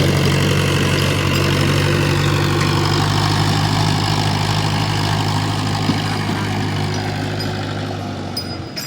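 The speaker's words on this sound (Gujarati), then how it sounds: "હવે ટ્રેક્ટર નીકળી જશે ખાલી કરવા જવાનું ખેતરમાં" A farm tractor engine runs steadily near a field with a loud, even, low throb. It keeps running without a break and fades slightly toward the end.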